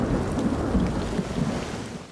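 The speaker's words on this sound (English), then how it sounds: "At least you have rain." Rain falls steadily in an anime episode, while a low rumble of thunder rolls under it, loud and continuous for a brief stretch.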